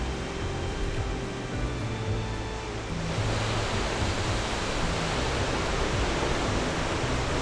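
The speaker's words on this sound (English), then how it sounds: "the water down there is making such big like hits inside of the caves that it's sounding like thunder" Ocean waves crash into caves below the cliffs along Portugal's Fisherman's Trail, producing a continuous distant roar like thunder that thickens and grows louder partway through.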